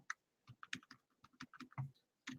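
Irregular clicks of typing on a computer keyboard, sparse keystrokes with short pauses between them, close and quiet.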